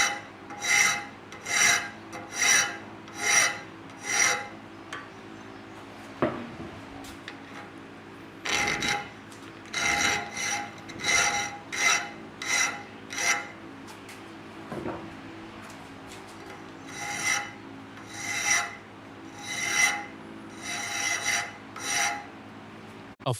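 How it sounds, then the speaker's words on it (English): A hand file rasps across the steel tang of a sword made from an old rusty truck spring, in rhythmic bursts of strokes separated by short pauses, close and clear. "Hand files refine the mechanical cuts, ensuring the tang tapers smoothly"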